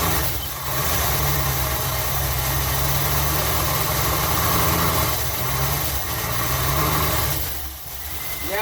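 The engine of a 1981 Dodge B250 Ram van, long unused and with worn valves, idles after starting, giving a steady, rough low rumble with slight surges that dips near the end.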